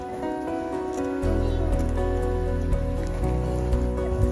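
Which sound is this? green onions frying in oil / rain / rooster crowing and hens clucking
rain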